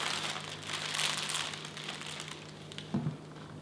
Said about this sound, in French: Je place le papier sulfurisé